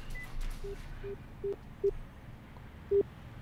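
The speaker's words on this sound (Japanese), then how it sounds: "早速電話してみてもいいですか。" Telephone call being placed: a series of short, evenly pitched dialing beeps, five in all, quiet and spaced irregularly over faint room noise, with no talk.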